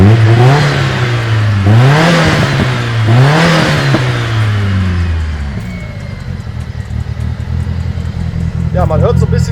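A turbocharged Nissan 200SX S14 engine with a ball-bearing GTX turbocharger revs up and down several times with a whining turbo, then settles into a rough idle; nearby.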